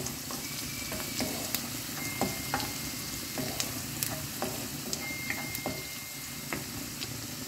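Garlic frying in a pan with oil, a steady close sizzle and crackle punctuated by repeated clicks and scrapes of stirring.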